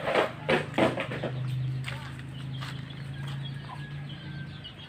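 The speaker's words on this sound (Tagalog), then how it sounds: "mga manok." Chickens clucking nearby in a short run of bursts, then quieter farmyard clucks and murmurs continuing in the background.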